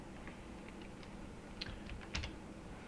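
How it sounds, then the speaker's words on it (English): Scattered computer keyboard keystrokes, soft and fairly distant, with a couple of louder taps, during an Excel financial modeling session. "Please don't type."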